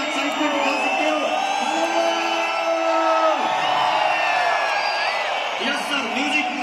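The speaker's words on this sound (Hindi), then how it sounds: "सीटी बजा सकते हो, ताली बजा सकते हो, हू हल्ला कर सकते हो" An audience at an anniversary celebration whistles, whoops and cheers loudly and continuously, with shrill sliding whistles rising above the dense crowd noise.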